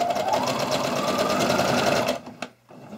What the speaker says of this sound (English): we're going to sew over them. Go over them a few times.